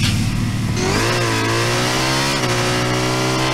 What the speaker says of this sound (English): the engine sounds are sounding so good this season